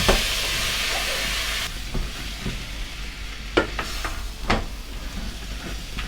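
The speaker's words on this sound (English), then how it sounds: "And it really won't take long until the tomatoes start to cook down, release all the flavour, deglaze the pan" Tomatoes hit a hot pan for classic tomato sauce, a loud hissing sizzle that drops after a moment, followed by quieter frying with several sharp spoon scrapes, close and without talk.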